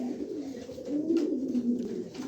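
Frightened pigeons kept for sale, a close, continuous low cooing that swells slightly midway, alone without talk.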